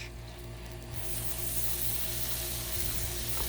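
Sausage sizzles on a Blackstone griddle over medium-low heat, with a constant close hiss that grows louder and fuller after the first second and holds steady without any talk.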